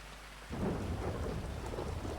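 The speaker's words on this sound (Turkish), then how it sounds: "Yalnız ne yağmur yağdı." Rain and thunder in the Grand Theft Auto V video game: a steady, loud downpour with rumbling thunder begins abruptly half a second in and roars on continuously.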